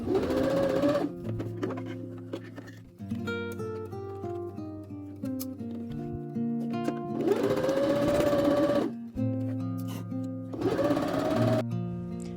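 A sewing machine stitches darts on a vintage wool coat, a steady whirring hum in several runs broken by short pauses, close and clear with no talking.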